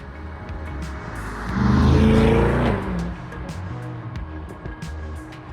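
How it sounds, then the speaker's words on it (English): A 2024 Chevrolet Corvette E-Ray engine roars past, swelling loudly in the middle then fading, with sharp exhaust pops crackling throughout. "you even hear a little pop out of the exhaust sometimes"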